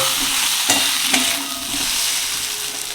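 Spices are sautéed and stirred in a hot pan for a fish roe dish: a steady, close sizzle with a few sharper scrapes and knocks from the spoon, and no voices.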